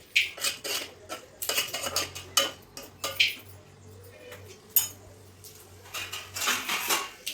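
A spoon stirs tomatoes into a potato curry in a metal pan, giving irregular sharp scrapes and clinks against the pan, close and intermittent with quiet gaps between.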